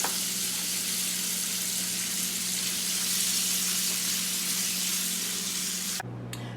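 Bacon seasoned with black pepper sizzles and crackles steadily in a pan, a dense close frying hiss that holds throughout before dropping slightly at the very end.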